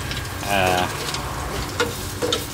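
A minced pork omelette frying in a pan, a soft continuous sizzle with brief scrapes from the pan, heard close beneath someone talking.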